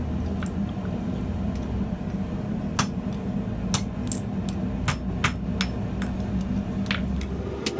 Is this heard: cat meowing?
no